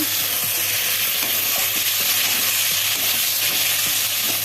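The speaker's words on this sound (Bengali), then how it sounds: "আর মশলাটাও দিয়ে দিল আদা আর জিরে পেস্ট করা এটা এবার ভালোভাবে এটাকে নেড়ে নিব" A spoon stirs ginger and cumin paste frying in a pan with curry leaves, giving steady bright sizzling broken by repeated soft scraping strokes, close and continuous.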